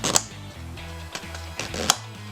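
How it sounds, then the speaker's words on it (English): Air cleaner clips on a BMW R1200 motorcycle snap back into place with two sharp plastic clicks, one near the start and one near the end, over a low steady hum. "we just simply move the clips back in to lock it in"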